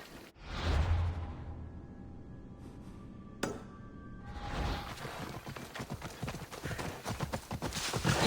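A horse in Assassin's Creed Odyssey gallops with rapid, steady hoof clip-clops and a brief whinny, set against whooshing game ambience, faint overall and without talk.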